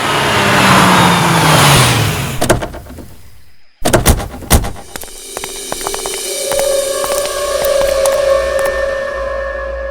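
On a road in a crime drama, a car's engine rumbles loudly, then cuts off with a couple of sharp thuds. A steady hum and the rumble of the stopped vehicle continue afterward.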